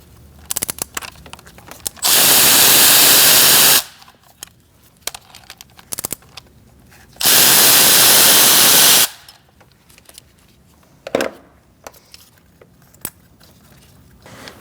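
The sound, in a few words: removing four bolts with an E10 socket on Mercedes C300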